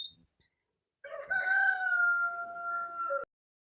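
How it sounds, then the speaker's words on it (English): A rooster crows once, a long drawn-out call lasting about two seconds, clear and fairly close, with a brief faint bird note just before it. "Roosters will quit their clucking."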